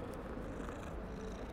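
A black cat purring in the video game Hogwarts Legacy, a low continuous rumbling purr, steady and close, with no talking.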